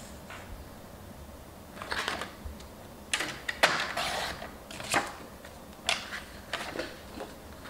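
An A4 sheet of paper being cut: a series of quick, crisp snipping and rustling strokes in uneven bursts, close and fairly quiet, with no talking over them.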